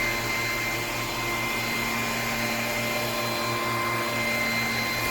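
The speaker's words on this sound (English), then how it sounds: "we'll see what this looks like when I turn the vacuum on and the light comes on" A Bissell PowerClean FurGuard 280W cordless vacuum cleaner runs steadily from start to finish with a constant loud motor whine and airflow hiss, close up and without talking.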